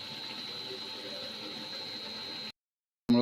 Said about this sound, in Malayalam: തിളച്ച് മറയുന്നുണ്ട്.